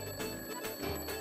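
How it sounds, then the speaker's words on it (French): An alarm clock rings continuously at home, a steady bright tone with a faint rhythmic pulse filling the whole moment without voices. "Keto, éteins l'alarme."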